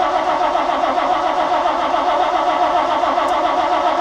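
A car engine that has sat unused, with fuel drained back, cranks steadily in a continuous, loud, even churn close by without yet catching.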